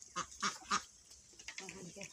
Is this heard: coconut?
no